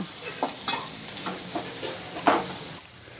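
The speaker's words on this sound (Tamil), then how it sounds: "கட் பண்ணி வச்சுருக்க வெங்காயம், நல்லா பச்சை வடை போகிற வரைக்கும் வதக்குங்க" Chopped onions sautéing in a pan, a soft sizzle broken by several spoon scrapes and stirs, fairly quiet and close, no talk.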